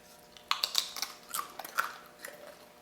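Close-up crunching of homemade chickpea falafel chips with cumin: a quick series of sharp, crisp bites and chews, dense at first and then thinning out, with no talking.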